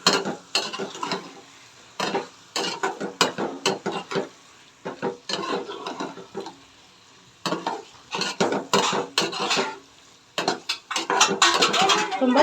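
Egg curry with pepper powder being stirred in a pan, a spoon scraping and clacking against the metal in uneven bursts, close and fairly loud, with short pauses between strokes.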